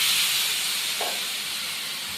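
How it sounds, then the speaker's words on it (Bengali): Marinated mutton sizzles in a pan of fried onions, crushed garlic and oil for mutton curry, giving a steady, fairly loud hiss that runs through the whole stretch with a short brighter burst partway through. "পেঁয়াজগুলো দেখুন ভালো করে ভাজা হয়ে গেছে। এবার দিয়ে দেবো ম্যারিনেট করা মাটন।"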